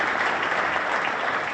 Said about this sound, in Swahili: Makofi mabibi na bwana